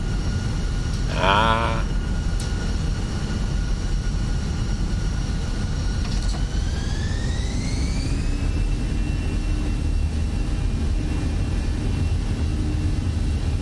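Airbus A320 engines spooling up for the takeoff roll in a flight simulator on runway 25 right, a steady loud roar with a whine that rises in pitch partway through and then holds, sustained throughout.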